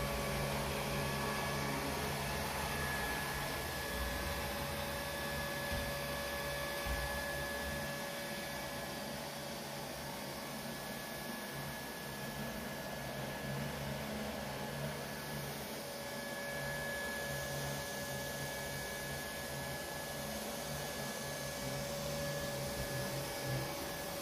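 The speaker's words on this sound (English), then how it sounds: "we got the Neato D7. One thing to note is it is running at its highest power setting at 20 CFM." A Neato D7 robot vacuum runs on high-pile carpet at its highest power setting, giving a steady, close whirring hum with a constant motor whine and no speech.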